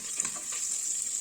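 Chopped ginger sizzles in hot oil in a pan, a steady bright hiss with small crackling pops, close and unbroken.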